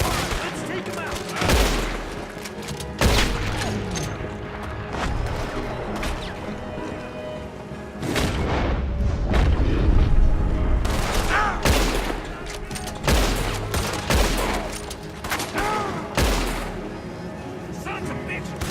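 Gunfire in a Red Dead Redemption 2 town shootout: sharp, loud shots crack repeatedly in irregular bursts, some overlapping into volleys, under shouting voices and a rumbling background.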